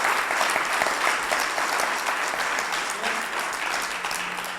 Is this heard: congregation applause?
yes